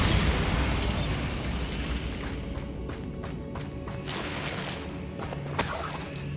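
A Bombarda spell in the Hogwarts Legacy video game goes off as a loud, broad blast that rumbles and crackles, with mechanical clicks and sharp pops scattered through the decay.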